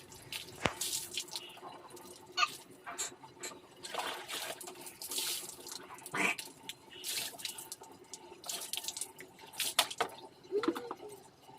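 Tap water runs and splashes while a face is washed at a sink, with irregular drips, splashes and handling noises over a steady flow, close by, and no talking.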